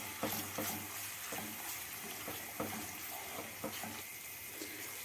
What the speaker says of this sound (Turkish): Salça ve kıymaları da biraz kavuruyorum.